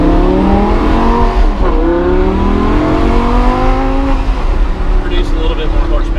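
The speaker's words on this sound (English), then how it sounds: "Oh, and then it has that nice V10 wail." A Lamborghini Gallardo V10 engine wails loud and close, its sustained, rising and falling tone steady throughout like a revving or accelerating car.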